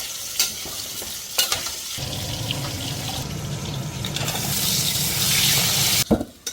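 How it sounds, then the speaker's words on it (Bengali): Potatoes sizzle steadily in hot oil for a meat curry, a close, continuous frying hiss broken by a few sharp clatters of stirring at the start and end. "মাংসের আলুটা ভেজে নেব।"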